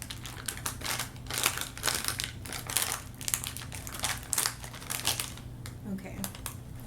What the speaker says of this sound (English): None of these bags want to open.